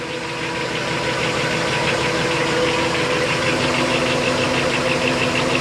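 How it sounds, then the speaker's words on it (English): On a 2003 Sea Ray, a Mercury MerCruiser 8.1L (496 ci) big-block marine engine idles smoothly, a loud, close, even rumble that holds steady throughout with no talking. "She's running smooth, idling smooth."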